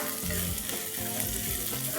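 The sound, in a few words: sliced onion frying and being stirred in pan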